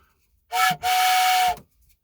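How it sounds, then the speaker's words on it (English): A loud, close train whistle blows twice: a short blast, then a longer sustained toot of about a second, with silence before and after. "I've got my train whistle"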